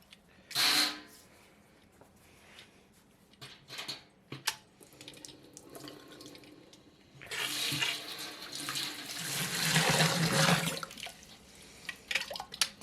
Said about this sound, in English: Let's get some water in it.